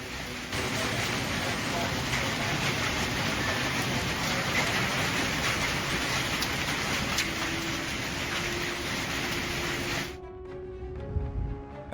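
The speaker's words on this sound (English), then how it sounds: "Western Kentucky residents face powerful storms, lightning, and hail." A powerful storm in western Kentucky with rain and hail pours down as a loud, steady, dense roar of falling water that cuts off abruptly near the end, leaving quiet.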